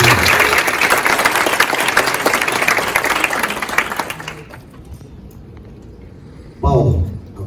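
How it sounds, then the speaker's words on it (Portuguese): Audience applauding at a book launch, loud sustained clapping for about four seconds that fades out, followed by a quiet pause and a brief burst of voice or noise near the end. "Uma salva de palmas para o nosso amigo Paulo Martins."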